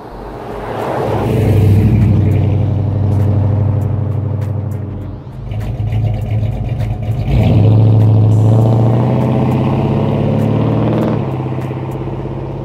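A Nova car's engine drives and revs loudly up close, its deep droning note rising and falling as it pulls away through the gears, with no voices over it.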